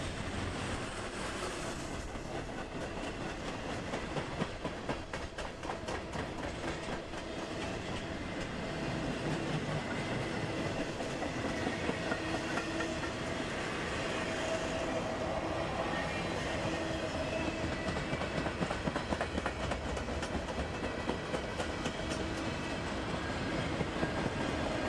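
A CSX freight train rolls steadily past on the railroad, a loud continuous rumble of wagons with rhythmic wheel clatter and rail noise lasting throughout.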